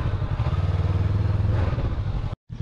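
Steady engine drone of a roughly 200 kilo motorbike riding through the Mekong Delta, loud and close with a clattering texture, cutting out briefly near the end.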